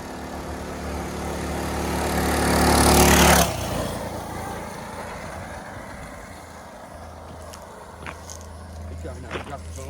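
A Coleman BT200X mini bike engine with its governor deleted revs loudly and climbs for a few seconds, then cuts off abruptly and idles low while voices talk.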